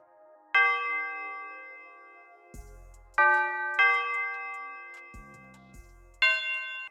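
A ringing bell pattern in a synthetic beat plays with a wide, washy FL Studio Fruity Reverb tail, each note lingering and blurring into the next, as low bass thumps land between phrases.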